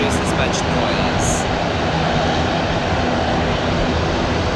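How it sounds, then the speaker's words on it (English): Turboprop aircraft engines run loud and close on an aerial firefighting tanker being refilled with retardant at an air museum, a dense, steady roar that fills the whole moment. "with the turboprop engines like these, the front end is a lot noisier than the back"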